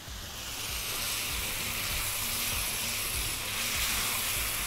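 Tomato juice bubbling in a pan with minced meat and orzo pasta, giving a steady, close sizzling hiss with soft popping underneath, continuous throughout and free of speech.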